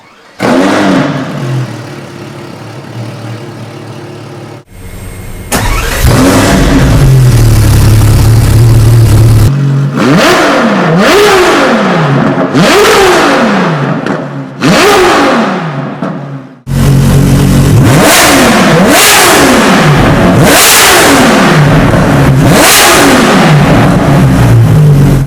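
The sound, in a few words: modified Ferrari LaFerrari engine revving with FXXK exhaust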